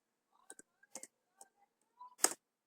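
Scattered, quiet clicks of a computer keyboard as text is entered into a table in MS Word, a handful of separate keystrokes with a sharper cluster at the end.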